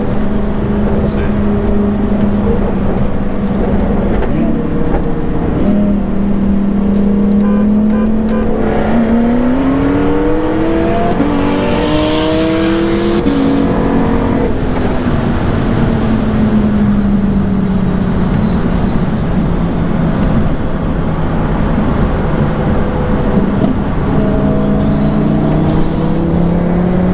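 The DDE Tire Slayer car accelerates hard in a roll race, engine pitch climbing through several gear pulls over a continuous loud rumble, with a voice talking over the noise.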